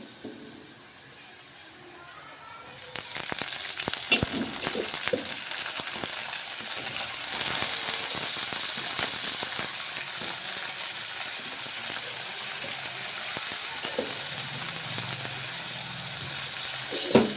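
Onions and fenugreek leaves sizzle and fry in a pan for a curry, a steady loud hiss that starts abruptly after a quiet opening, with occasional scraping of a spoon stirring through.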